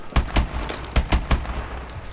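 Several sharp gunshots fire in an irregular burst, loud and punchy with a low thump, from gunfire in Call of Duty: Advanced Warfare.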